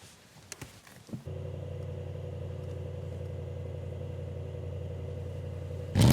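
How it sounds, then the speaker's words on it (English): A Mercedes-AMG GT with carbon and night packages starts with a quick cranking sound and catches into a steady, humming idle, followed by a sudden louder rev at the end. "Let me turn the car on so you can see."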